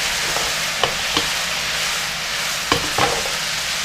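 Whiskey jerk spot prawns sizzle steadily in a hot pan with their marinade, a dense close frying hiss broken by a few soft utensil taps and stirring, with no talking.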